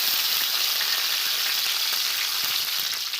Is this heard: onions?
yes